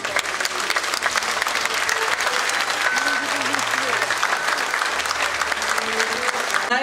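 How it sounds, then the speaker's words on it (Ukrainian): Crowd applause at an outdoor city day celebration, steady and fairly loud, with murmuring voices underneath the clapping throughout. "Щирі вам оплески, друзі!"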